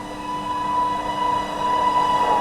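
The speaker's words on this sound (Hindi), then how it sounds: "सामने से आ रही है हज़रत निज़ामुद्दीन से चलकर जबलपुर की ओर जाने वाली श्रीधाम सुपरफास्ट एक्सप्रेस" The Shridham Superfast Express, running from Hazrat Nizamuddin toward Jabalpur, rolls past in a loud steady rumble with a sustained high metallic wheel squeal.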